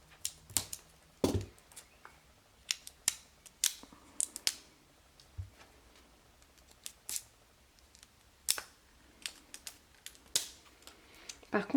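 Large scissors snip and crunch through the stiff packaging of a tarot card deck in irregular cuts, with rustling and brief clicks between them and a voice speaking now and then.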